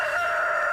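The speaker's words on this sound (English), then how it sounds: "Yeah, rooster. Appropriate sound for what's about to go down" Rooster crowing from the farming video game Stardew Valley, a single short, loud cock-a-doodle-doo call heard alone and up close.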